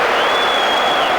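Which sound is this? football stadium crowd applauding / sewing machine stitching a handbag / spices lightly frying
football stadium crowd applauding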